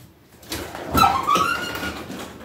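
An oven door swung open while baking Cracker Jack cookies, a close, single rising squeaky scrape with a hinge creak, lasting about a second.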